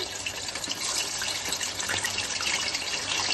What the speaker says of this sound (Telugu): ఇప్పుడు ఫిష్లు వేడివేడి నూనెలో వేసేసుకొని వేయించుకోవాలి.